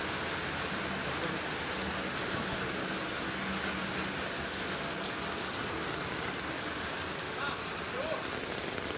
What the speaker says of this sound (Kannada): ಮಳೆ ಫುಲ್ ಬರ್ತಿದೆ ನೋಡಿ ಇಲ್ಲಿ